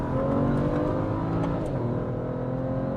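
A BMW E92 335i engine pulls under power with a steady, building drone and no voices, moderately loud and continuous throughout.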